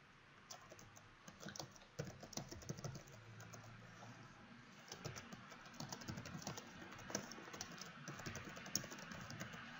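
Close, quiet typing on a computer keyboard while writing a Git commit message, with steady irregular key clicks in short bursts and no talking.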